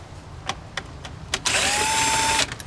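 A few short clicks, then a cordless drill driving a Torx bit during a Tesla Model X cabin filter replacement whirs steadily for about a second before stopping.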